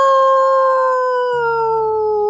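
A dog howls in one long, loud, sustained wail that slowly falls in pitch, with a brief low rumble under the end of the howl.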